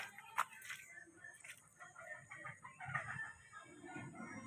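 A Rhode Island Red rooster crows faintly and at a distance on a muddy farm after rain. A few soft clucks and farmyard noises surround the call, and no one speaks.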